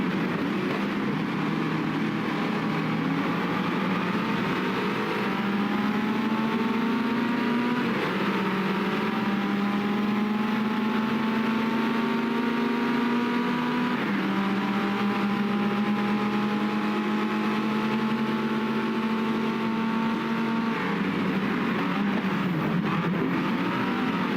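A Renault Alpine engine in the GT Legends racing game revs and accelerates through several gear changes, its tone climbing and dropping in repeated steady pulls, loud and continuous.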